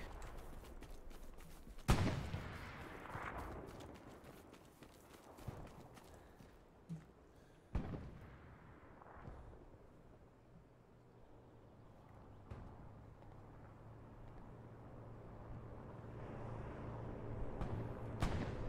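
Grenade explosion in the World War II shooter Hell Let Loose: a sharp blast near two seconds with gunfire and scattered battlefield bangs around it, moderately loud within an otherwise busy combat mix.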